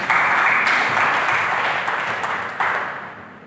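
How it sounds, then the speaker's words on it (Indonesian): A church congregation gives a round of applause for God, a dense wash of clapping that starts loud and gradually fades over a few seconds. "Berikan tepuk tangan bagi Tuhan."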